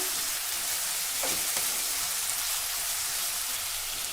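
Potatoes sautéing in a hot pan give a steady, close crackling sizzle, an even bed of fine spitting with a faint scrape or two, and no voices.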